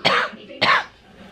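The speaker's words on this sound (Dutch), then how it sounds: "Ik heb echt zoveel last van hoestaanvallen de laatste dagen." Two sharp coughs a little over half a second apart, from a woman with a lingering cough, close and loud with no talking.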